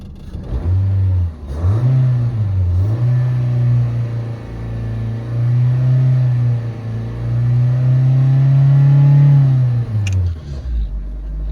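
A car engine idles close by, a loud, steady low hum whose pitch wavers slightly and dips briefly before settling again, with no talking.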